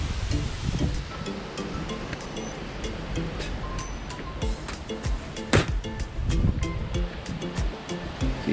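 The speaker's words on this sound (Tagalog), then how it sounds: "Ang lakas ng hangin." Strong wind roars steadily outdoors, with rushing gusts and rustling that swell and fade throughout, broad and continuous.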